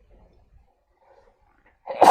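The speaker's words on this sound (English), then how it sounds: "Hold on, I gotta sneeze." A single sharp sneeze bursts out at the very end after near silence, with a short breathy intake leading into it.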